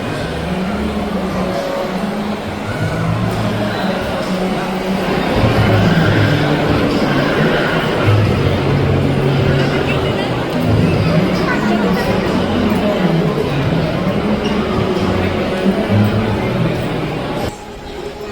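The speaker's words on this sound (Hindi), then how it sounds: "8:30 हो रहे हैं DLF मॉल में इस टाइम हम, और इतनी भीड़ है ना देखो" Evening crowd bustle inside DLF Mall in India: a dense, steady wash of many voices and footsteps with low rumble, continuous and close throughout, briefly dropping near the end, with people chatting nearby.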